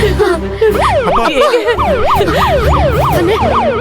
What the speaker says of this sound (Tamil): ஆம்புலன்ஸ் வந்துருச்சு.